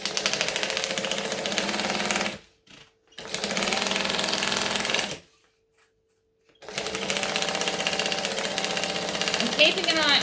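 A sewing machine runs loud and close while stitching the lining of a Raggabrash bag, in three long, steady runs separated by brief pauses.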